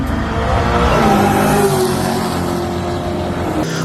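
Supercharged LSA V8 in an HSV VF GTS Holden Commodore revving loudly and steadily up close, a sustained engine roar with shifting pitch and no talk.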